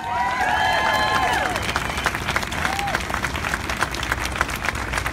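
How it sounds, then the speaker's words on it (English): Crowd applause and cheering at a March for Our Lives protest march in Stockton, loud and sustained across the whole stretch, with voices and whoops rising over the clapping early on. "Give yourselves a round of applause."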